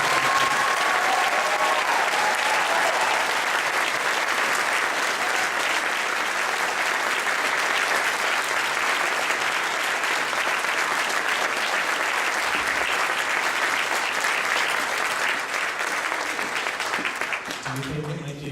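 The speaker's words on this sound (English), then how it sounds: "one more big round of applause for our wonderful guests" Sustained, loud applause from a convention audience at a furry convention's closing ceremony fills the room steadily, dense clapping with faint crowd murmur, tapering slightly near the end.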